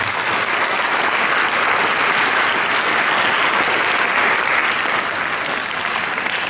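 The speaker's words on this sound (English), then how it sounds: "Give them a good round of applause." An audience claps for a children's orchestra after a performance, a loud, sustained, dense applause that holds steady from start to finish without voices standing out.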